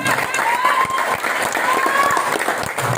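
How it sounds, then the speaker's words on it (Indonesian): Audience applause at a motivational seminar, a steady wash of many hands clapping close by with crowd noise mixed in, continuing without a break. "Tepuk tangan PTBS."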